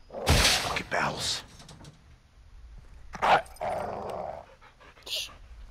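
Caged guard dog in Modern Warfare 2 Remastered, barking sharply a few times and growling low between barks at close range, with short spoken lines in between.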